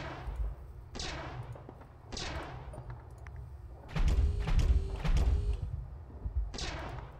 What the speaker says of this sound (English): Eat my laser cannons